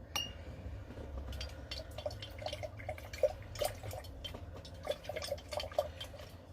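Water drips and trickles into glass containers as two are filled with fresh clean water after scrubbing. Scattered small drips and light glassy clinks sound close and fairly quiet over a low background hum.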